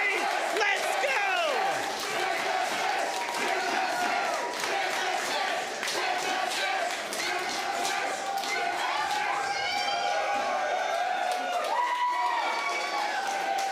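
At the NHRL 2023 robot combat finals, a large crowd roars and cheers loudly and continuously, with shouts and scattered applause while a commentator talks over it.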